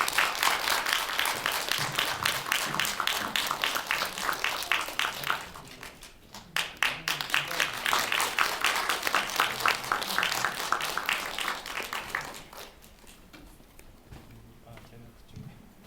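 An audience at a Korean film screening event applauds as guests come on stage, dense steady clapping for about twelve seconds with a brief dip midway, then fading out into quieter room sound.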